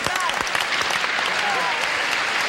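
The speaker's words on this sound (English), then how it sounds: "Now let's all applaud and welcome Joanne Seitzinger" Studio audience on a 1978 television game show bursts into dense, loud applause that fills the whole stretch, with a voice faintly underneath.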